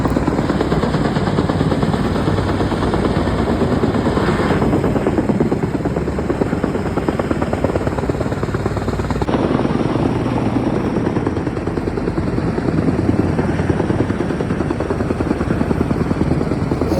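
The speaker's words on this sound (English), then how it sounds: "Helicopter at the rescue." A helicopter passes over a rooftop in Switzerland, its rotor and engine drone loud and continuous throughout, with no one speaking.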